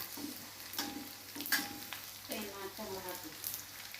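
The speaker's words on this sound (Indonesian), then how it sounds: "Ini terinya sudah mulai agak masak ya teman-teman, dan baunya harum ya teman-teman" Anchovies frying in a pan with a soft, continuous crackling sizzle, close but quiet, with a few faint clicks and short bits of a voice in the background.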